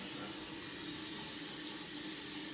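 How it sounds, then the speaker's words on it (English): A bathroom tap runs into a sink during a morning face wash, a steady, even hiss of flowing water, faint and unbroken with no voices. "I'm going to wash it off wash it off."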